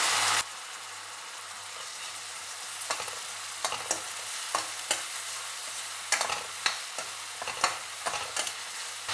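Tomatoes and rock salt frying in a pan for dhaba-style dal fry, a constant loud sizzle with sharp spoon scrapes at irregular intervals, heard close up with no voices.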